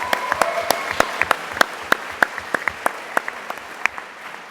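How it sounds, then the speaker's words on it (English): Applause from a graduation ceremony audience following a student speech, a crowd clapping with sharp individual claps standing out over steady dense clapping throughout. "Let's give her a round of applause."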